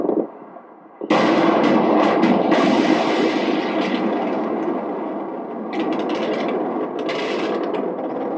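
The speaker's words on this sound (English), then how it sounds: "You hear that small arms fire?" Small arms fire and explosions in a war zone: a dense, continuous rumbling roar with crackling bursts layered on top, loud and sustained after a quieter opening second.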